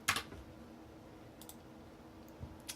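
A computer mouse gives a few sharp, close clicks: a quick double click at the start, then single clicks near the middle and the end, on an otherwise quiet background.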